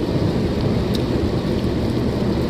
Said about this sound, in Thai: ฝนตกไม่ใช่ปัญหาครับ